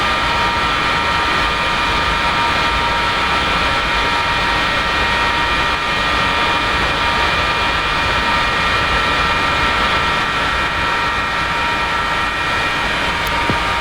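Jet engine starting in the DCS flight simulator game on an F-4E, a loud steady turbine roar with a constant high whine running throughout, no voices.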